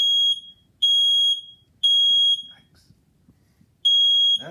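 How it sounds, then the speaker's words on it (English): A newly installed smoke alarm under test blares loud piercing electronic beeps in a repeating pattern of three, close and alone, with faint handling noise between bursts. "Put the smoke alarm up, click it in, you'll hear it beep. It's activated. Now we'll test it."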